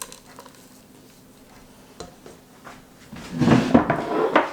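Mini chocolate chips being gently stirred into a cooled no-bake granola bar mixture, a few faint taps early on and then a louder, close scraping and rustling of the spoon through the thick mix.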